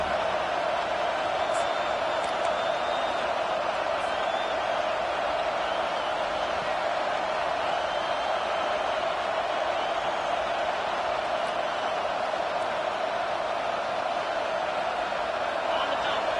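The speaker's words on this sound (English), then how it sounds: "These fans are going absolutely nuts." A loud home crowd of fans in a football video game roars as a steady, unbroken wall of noise, sustained and even from start to finish.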